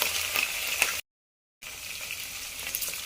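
Mustard seeds spluttering in hot groundnut oil, a dense sizzling crackle with a few sharper pops, cut by a brief silent gap before the frying hiss resumes.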